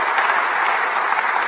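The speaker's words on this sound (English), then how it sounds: "Round of applause for photocopiers." A television studio audience on the panel show Room 101 breaks into loud, even, sustained clapping with no speech over it.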